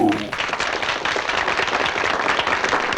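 Audience clapping fills the room, a steady, dense patter of many hands sustained at full strength throughout after a brief voice at the start.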